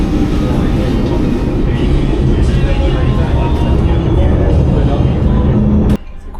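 Steady low rumble and rattling of a moving train carriage in Hong Kong, loud and continuous, ending abruptly near the finish.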